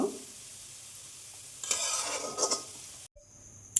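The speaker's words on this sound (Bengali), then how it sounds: "কড়াতে আমি এই কুমড়গুলো দিয়ে দিলাম গ্রেট করা এটা আমি একটু নেড়ে চেড়ে নিব" Grated sweet pumpkin being stirred in a pan while making a pumpkin sweet, a soft scraping that swells into a few louder bursts of stirring, then briefly cuts out before a quieter clatter.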